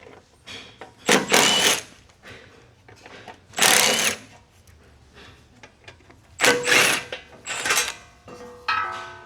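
A 10 mm ratchet backs out bolts on a Nissan 370Z cover, in several bursts of rapid, close clicking separated by short pauses, with faint handling noise between and no talking.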